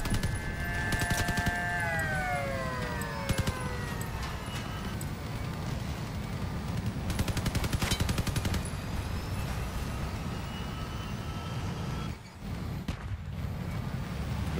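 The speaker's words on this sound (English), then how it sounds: "And now two people firing on Miss Mel. Just gone." Rapid bursts of imp machine gun fire in a mech combat game, with several mechs on hovers firing at once; dense, fast repeated shots run steadily throughout over a constant background of game noise.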